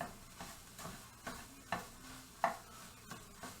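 Rice browning in extra virgin olive oil in a pan for pork fried rice, a soft steady sizzle broken by a few sharp scraping stirs and clicks of the utensil against the pan.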